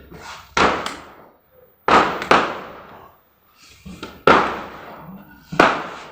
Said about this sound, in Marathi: आणि फटाके फुटते बाहेर.